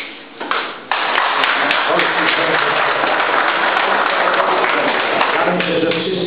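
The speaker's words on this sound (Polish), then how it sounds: "oklaskami go witamy" A crowd at the closing ceremony of the 2012 Polish shore and beach championships in Karwia applauds to welcome the federation president: after a brief rustle, dense, steady clapping swells and keeps going.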